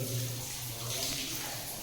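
Water gushes steadily out of a farm well on a village plot where a machine is set up, a continuous broadband rush with a low rumble underneath.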